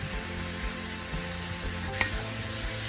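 Steak and vegetables frying in a pan, with a steady close sizzle and a brief clink near the middle, no voices.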